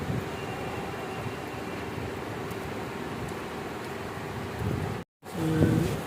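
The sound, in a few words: heavy rain falling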